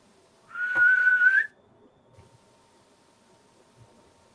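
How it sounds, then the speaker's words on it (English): A single sustained whistle, rising slightly in pitch and lasting about a second, sounds clearly over a quiet room at a reportedly haunted inn, followed by faint shuffling noises. "I heard like a whistle."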